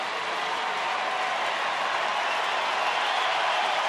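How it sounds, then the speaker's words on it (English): Baseball crowd in a Texas Rangers ballpark cheering and applauding, a dense steady roar of clapping and voices that swells slightly over a few seconds, with no clear talk above it. "Now the crowd getting into it."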